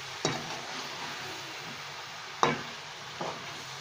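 Spices roasting in a pan over a high flame, with no turmeric added: a steady low sizzle runs throughout, broken by three sharp stirring scrapes, the loudest midway through.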